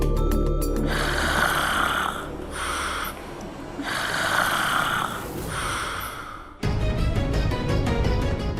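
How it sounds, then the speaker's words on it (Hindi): A person snoring in repeated loud, rasping breaths, two long snores followed by a nasal snort, close by, with a sudden shift to busier background sound near the end. "फिर ये खर्राटे की आवाज कहाँ से आ रही है?"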